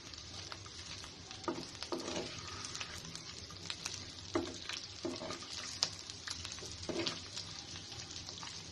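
Beef frying in a pan gives a steady sizzle, broken by repeated scraping stirs from a utensil. The stirs land at irregular intervals, and no one speaks.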